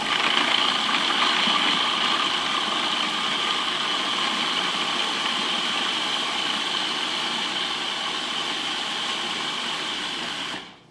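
A food processor spins basil pesto in a steady, loud motor whir that runs unbroken for about ten seconds, then cuts off abruptly at the end.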